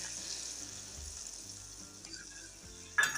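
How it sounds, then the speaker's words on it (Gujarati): Ghee and milk warming in a small pan give a quiet, low sizzle with faint bubbling, close and soft throughout, ending in a sharp clink near the end. "ઘી અને દૂધને આપણે ગરમ કરવાનું છે"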